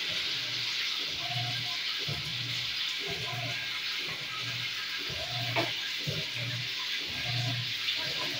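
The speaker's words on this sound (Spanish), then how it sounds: "Valentina está empezando a lavar el lavamanos, las paredes" Water splashes and sloshes in repeated bursts while a bathroom sink and walls are washed, with rhythmic scrubbing pulses over a constant hiss of running water.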